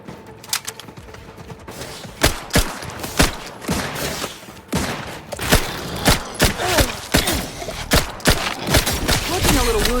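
Gunfire in Outer Worlds 2 combat: a rapid series of sharp, loud shots in irregular bursts over a rumbling battle background, growing denser toward the end.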